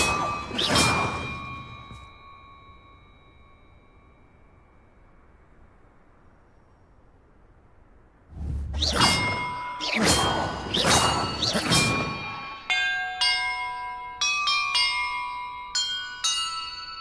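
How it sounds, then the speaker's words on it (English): Bells are struck in the Hogwarts Legacy video game: an opening metallic clang rings and decays, then after a quiet stretch a rapid series of ringing bell strikes follows, the later ones tonal and chiming. "Perhaps the map contains clues about the order I'm supposed to ring the bells in."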